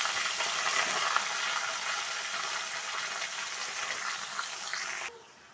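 Ash gourd stems tossed into hot oil already crackling with dried chilli, bay leaf, green chilli and panch phoron, giving a steady loud sizzle that runs for about five seconds before dropping off sharply.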